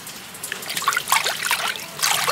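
Water from a tap trickles and splashes while fresh beef leg meat is rinsed by hand, a soft uneven dribble with small splashy bursts, fairly close and unaccompanied by talk.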